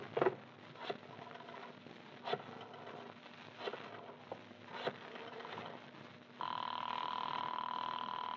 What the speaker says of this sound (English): The phone's ringing all right.